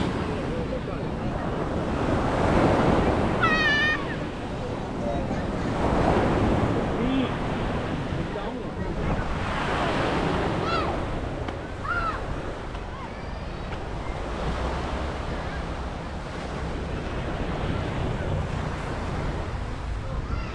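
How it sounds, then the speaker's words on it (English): Surf rolls onto the beach at Batu Ferringhi, Penang, in broad repeating washes every few seconds, mixed with wind buffeting the microphone and faint distant voices along the shore. "So this is the beach."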